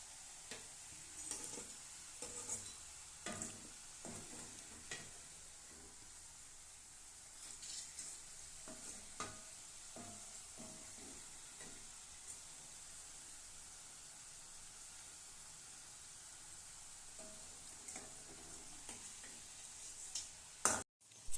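Murukku frying in hot oil, a long continuous crackling sizzle with bursts of spattering and occasional stirring clicks, close and quiet.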